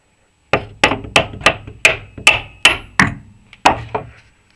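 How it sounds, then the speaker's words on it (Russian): A hammer knocks a reactive suspension rod out of a Niva during a rod replacement. About nine sharp, close metallic blows land in a steady rhythm, with no talking. "Молоточек нужен."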